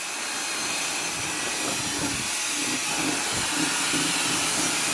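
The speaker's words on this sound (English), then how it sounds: "this is not wind noise, yeah? Wind is not blowing to the mic, wind is going that way, and this is just a noise from the motor." KICA Jetfan Max handheld jet blower motor running at full power, a loud steady high-pitched whine with broad rushing air, constant and close, with no voices.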